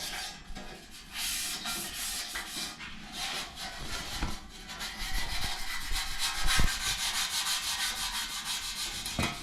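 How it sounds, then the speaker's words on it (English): Sandpaper scuffs back and forth over welded metal of an RV bunk guard in uneven strokes, a gritty rasping that grows a little louder toward the end, with no talking. "we're going to take some sandpaper or a Scotch-Brite pad to clean the metal up, scuff it up"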